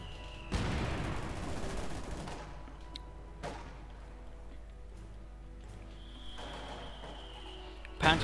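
Light machine gun fire in the Company of Heroes 2 strategy game, heard as a burst of rattling shots early on with later scattered distant pops, faint and mixed with battlefield ambience and a sustained tone.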